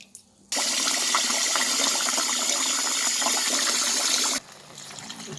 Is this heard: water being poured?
yes